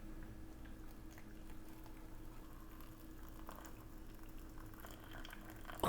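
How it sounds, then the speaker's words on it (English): Water heating to a rolling boil in a pot for instant miso ramen, a steady low bubbling rumble with a soft hiss that holds evenly throughout, close by and alone without talk. "we got some water boiling"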